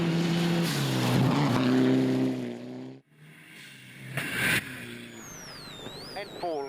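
A rally car at the 2015 Rally Wairarapa, its turbo hose blown off, drones with engine harmonics, then breaks into a sharp burst of hiss and a thin whistle as boost leaks out.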